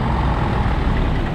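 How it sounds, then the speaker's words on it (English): A cement mixer truck rumbles on a street in Macau, a loud, steady low engine drone that holds constant and close with no voices. "The cement truck there,"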